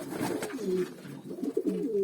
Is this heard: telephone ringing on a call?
no